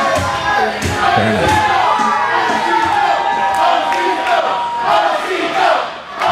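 A loud, dense crowd at a live professional wrestling show on Staten Island cheers and roars continuously, with shouts rising above the steady wall of noise throughout.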